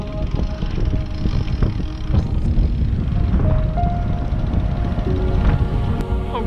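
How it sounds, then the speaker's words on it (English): Strong wind roars over a sailboat at sea: a loud, continuous rushing and buffeting close to the microphone, with faint creaks, whistling rigging tones and scattered knocks throughout. "Oh God, the wind's blowing even harder now."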